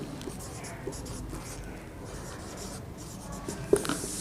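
Chalk or marker writing on a board during a coordinate geometry maths lesson, soft scratchy strokes in short bursts, with a teacher's voice quietly present and a sharper tap near the end.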